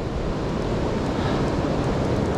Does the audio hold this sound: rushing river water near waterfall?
yes